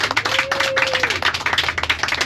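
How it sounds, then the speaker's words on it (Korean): Brief clapping from church pilgrims seated on a tour bus in Türkiye, uneven hand claps with a voice briefly sounding over them. "우리 여정 가운데 함께 하신 하나님께 감사와 영광의 박수 올려드릴게요."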